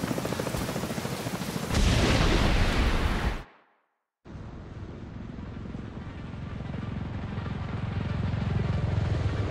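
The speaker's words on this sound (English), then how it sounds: "Explosions? What the hell?" Explosions and gunfire erupt in The Division 2 video game: a loud roaring blast, a sudden cut to silence, then a sustained low rumble of fire and engine noise.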